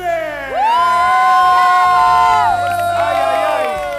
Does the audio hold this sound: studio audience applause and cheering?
yes